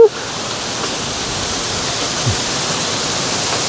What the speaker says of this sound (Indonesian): Kan memang anginnya di sini kenceng banget